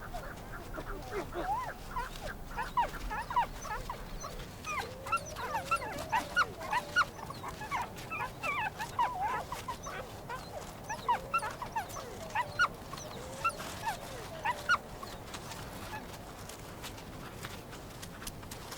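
Young wild pups whimper and squeal while eating meat near their den, with repeated high whines and yelps coming in clusters over a low outdoor background.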